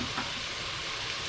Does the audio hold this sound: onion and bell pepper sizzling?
yes